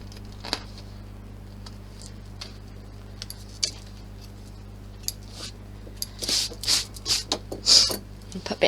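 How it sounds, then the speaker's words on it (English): Scissors snipping through material for a handmade bow-style purse, a handful of close, crisp cuts clustered near the end, preceded by light scattered handling clicks in a quiet room. "So let's cut this off."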